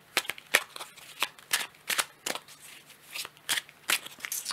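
Aquarian Tarot cards being shuffled by hand, a steady series of crisp riffling flicks and soft slaps, close and clear, with no talk over them.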